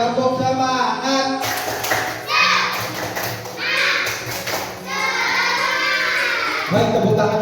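A school class claps together in a rhythmic spirit clap, bursts of hand claps alternating with chanted voices, loud and close in a classroom.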